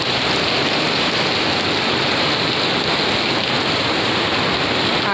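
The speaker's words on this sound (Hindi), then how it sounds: "तेज बारिश हो रही है।" Heavy rain pours steadily in Lahore, a dense, loud, continuous hiss of water striking surfaces with no pauses and no voices.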